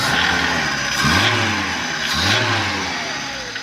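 A car engine, just fitted with a replacement carburetor, runs loudly nearby, revving up twice in quick surges before settling back to a rough idle.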